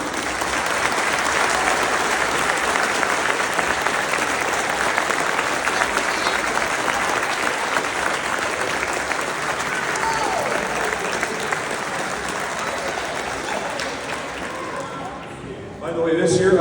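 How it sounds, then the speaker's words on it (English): Audience at a Cambridge Sports Hall of Fame induction ceremony fills the hall with loud, sustained applause that runs for the whole stretch before tapering off at the very end. "let's give them a great round of applause, our honored guests and both the new and old inductees"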